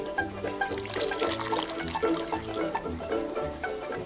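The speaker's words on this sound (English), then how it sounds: "I have a little tea strainer, and I'm going to pour this in here" Turmeric ginger tea pours through a small tea strainer in a continuous splashing trickle, over a steady rhythmic background sound.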